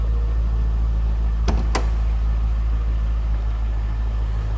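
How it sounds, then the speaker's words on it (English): A 2003 Chevrolet Corvette convertible's hood release is pulled, giving two quick, sharp clicks close together over a steady low hum inside the car. "Let's go ahead and see if I can reach and pop this hood one-handed."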